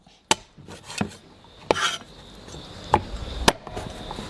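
A cleaver chops soaked chicken feet in half on a board, giving several sharp, close knocks spaced irregularly over a few seconds with quiet gaps between them.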